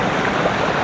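Creek water tumbles over rocks from a small cascade on Vancouver Island, a close, loud and steady rushing wash with no voices.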